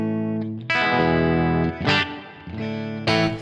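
Electric guitar running through a reverb pedal, a Flint version 2, into a clean amplifier: several sustained chords and picked notes with a lush, lingering wash trailing after each strum, played alone.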